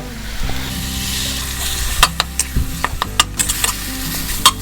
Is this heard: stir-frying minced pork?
yes